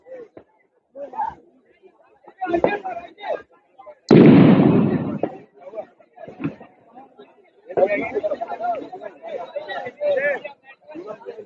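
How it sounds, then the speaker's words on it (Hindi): At a busy Diwali fireworks market, one sharp, loud firecracker bang bursts out midway and quickly fades, while people talk and chatter nearby before and after it. "पटाखे की आवाज सुनाई दे रही होगी।"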